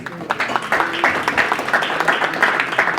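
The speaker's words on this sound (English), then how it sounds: "Give her a massive round of applause." An audience at a Tech Alley Henderson talk claps steadily, a dense patter of hands that keeps going for a few seconds without letting up.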